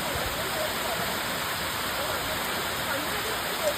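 Pampanal waterfall, a steady broadband rush of falling water, constant and moderately loud with no distinct events, heard without talk.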